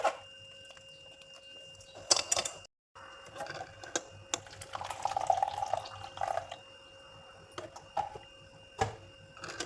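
Orange and beetroot juice strained into a vessel, a soft intermittent liquid trickle and pouring with light clinks and scraping of utensils, close and fairly quiet with no talking.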